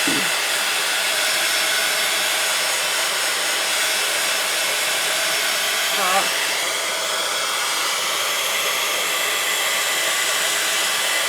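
A hair dryer drying paint on a mixed media hat craft project, a loud, steady blowing whoosh running continuously throughout, close by and alone with no talking.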